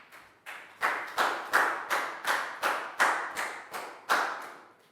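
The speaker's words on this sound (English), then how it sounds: "High five and a big round of applause for Pat, please, guys." A classroom of pupils gives a round of applause during a Year 4 maths lesson, ten or so loud, evenly spaced bursts of clapping in a steady rhythm with no talk over them.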